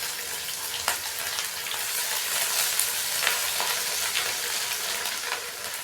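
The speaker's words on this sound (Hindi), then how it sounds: "अदरक और लहसुन के पेस्ट को हल्का सा फ्राई कर लेंगे।" Ginger and garlic paste fries in a pan while a chana dal fry is cooked restaurant style. A steady, close sizzle runs throughout with a few sharper crackles and stirring scrapes, and nobody speaks.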